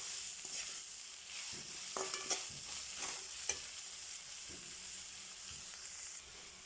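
Onions sautéing in a pan for tomato rice give a steady close sizzle, with intermittent scraping stir strokes through the middle; the frying fades slightly near the end, and no voices are heard.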